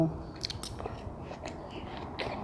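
Someone bites into and chews watermelon close up, with a few soft wet crunches and bites, faint and quiet, against a little background murmur.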